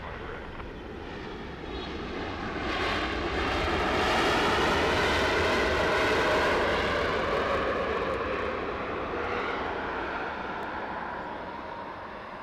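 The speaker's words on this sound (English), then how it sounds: "We got 777 Eva about to land." An EVA Air Boeing 777 from Taipei comes in to land at Los Angeles, its jet roar building gradually to a loud peak midway and then easing off, a long continuous rumble with no voices.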